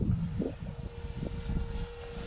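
An Arrows F86 RC model jet with fuel tanks, its electric ducted-fan motor whining at a steady pitch with low rumbling and handling bumps during a hand launch, fairly faint, no talk.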